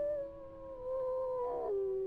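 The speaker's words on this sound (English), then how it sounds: "There's so much other howling happening as well." Sustained wolf howls from the WolfQuest video game, a long steady tone that slides slightly downward with overlapping howls joining near the end, moderately loud and clear with no talking.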